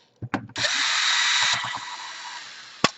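An electric screwdriver with a bit whirs steadily for about a second while backing a black screw out of an Asus K73e laptop case, preceded by a few handling clicks and followed by fading rattles and a sharp tap.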